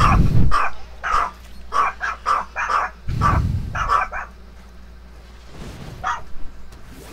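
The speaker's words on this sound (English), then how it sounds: "And my dogs are a bit angry." Dogs barking indoors in a quick run of sharp, repeated barks, fairly close and loud, pausing and then resuming more sparsely toward the end, with no talking over them.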